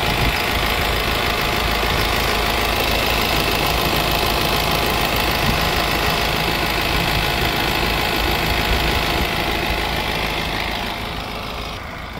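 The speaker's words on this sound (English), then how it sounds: "So when we switch the AC on, we should hear the AC clutch engage." A Honda Civic engine idles loudly and steadily with a dense, even mechanical drone, and the level dips slightly near the end as the AC is switched on.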